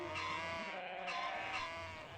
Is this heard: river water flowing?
no